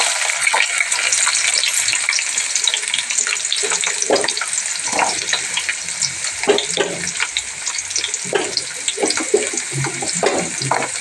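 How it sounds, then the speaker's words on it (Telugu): Onions, cumin seeds and curry leaves fry in a pan, giving a steady, loud sizzle with scattered crackles and stirring scrapes throughout, with no talking. "కాస్త జీలకర్ర వేగిన తర్వాత ఉల్లిపాయ ముక్కలు, ఇందులోనే కాస్త కరివేపాకు, 2 రెమ్మల కరివేపాకు వేసినాను."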